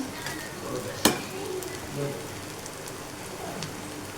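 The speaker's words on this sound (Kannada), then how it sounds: "ನೀಟಾಗಿ ಫ್ರೈ ಆದಮೇಲೆ ರೈಸ್ ಹಾಕ್ಕೊಂಡು ಮಿಕ್ಸ್ ಮಾಡ್ಕೋಬೇಕು" Egg fried rice frying and being stirred in a pan, a soft steady sizzle with one sharp clank of a utensil against the pan early on and a few light scraping touches after.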